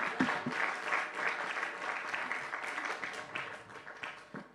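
A church congregation applauding together: steady, moderately loud clapping from a crowd that keeps going throughout, with some voices faintly mixed in.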